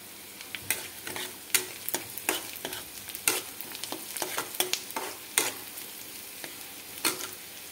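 Onions cook in a pan with a soft continuous sizzle, punctuated by irregular scraping clicks of a spoon stirring, close and fairly quiet with no talking.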